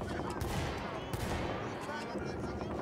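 Rapid gunfire in the pirate video game Sea of Thieves, a loud dense burst of overlapping shots and blasts filling the moment, with players talking over it.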